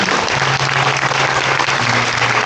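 Wedding guests at a ceremony clap together in a steady, dense round of applause, close and even throughout the short burst, with no talking.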